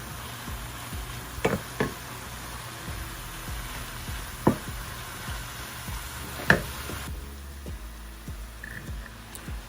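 Mushrooms frying in a pan, releasing their water while they cook down for a creamy chicken stroganoff, give a steady soft sizzle, and a few sharp clicks and scrapes of stirring are heard; no one speaks.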